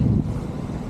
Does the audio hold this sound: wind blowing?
yes